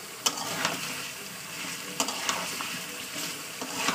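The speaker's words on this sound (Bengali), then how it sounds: "আমি মশলাটা দিয়ে না আমি 2 থেকে 3 মিনিট কষাবো।" Chicken pieces with masala being fried down in oil for chicken kosha with potatoes, a steady close sizzle broken by occasional sharp scrapes and taps of a spatula against the pan.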